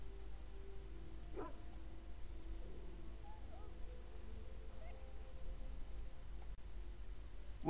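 A hound in Dragon Age Origins, sick from swallowing darkspawn blood, gives faint short yips and whimpering barks against a low background hum.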